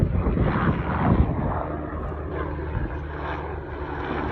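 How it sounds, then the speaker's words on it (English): A helicopter flies overhead, its steady broadband engine and rotor roar loud and continuous throughout, with no talk. "I wonder how it is being on the helicopter right now."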